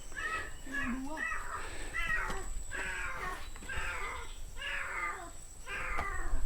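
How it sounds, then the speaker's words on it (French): A cat meows repeatedly beside a forest, several drawn-out, wailing cries in a row at moderate distance over a soft background hiss. "comme vous l'entendez, il y a un chat"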